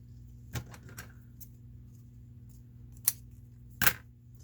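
Scissors trim paper while a journal is being decorated, with a few crisp snips at close range, one near the start and two sharper cuts toward the end, over quiet background.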